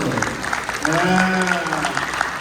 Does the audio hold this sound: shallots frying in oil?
no